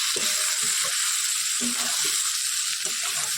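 Egg with spices sizzles loudly and steadily while being sautéed in a pan, a continuous close frying hiss with faint low sounds underneath.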